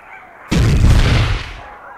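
Video game gunfire in Chaos Gate mission 1: a single loud, booming blast hits abruptly and rings out with a heavy rumbling tail for about a second before fading, with no talking over it.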